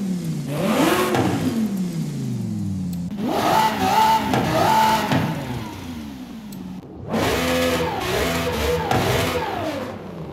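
Three separate bursts of a twin-turbo Lamborghini Huracan engine revving hard in Forza Horizon 5, each rising in pitch and then falling back, loud and close with short gaps between.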